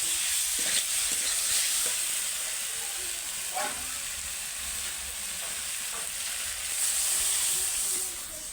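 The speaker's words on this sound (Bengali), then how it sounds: "দিয়ে দেবো সবজিটা সবজিটা ভালো করে নেড়ে কেড়ে নেবো" Vegetables (cauliflower and potato) are stirred into oil-fried spice paste in a pan, a steady broad sizzle with a few scraping stirs, fairly close and continuous throughout.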